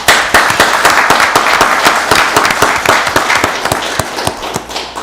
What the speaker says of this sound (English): Let's give all our women a round of applause